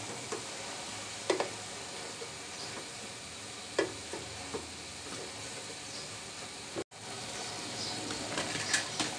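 Cabbage frying in a pan, turned over after cooking two minutes on one side: a steady soft sizzle with a few light scrapes and clatters of the flip, close by.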